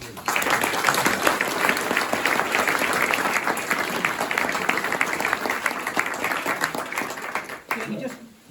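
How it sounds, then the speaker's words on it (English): Audience round of applause at an outdoor historic marker dedication, steady sustained clapping from a sizable crowd lasting several seconds before tapering off at the end. "So I'd just like to give those folks and everyone involved a round of applause, please."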